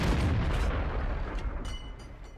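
A heavy boom from an enemy tank's main gun in the online tank battle game World of Tanks, one loud low blast at the start that rumbles and fades slowly over a couple of seconds.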